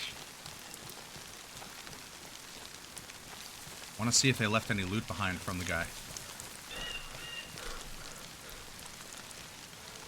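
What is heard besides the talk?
rain falling in the video game DayZ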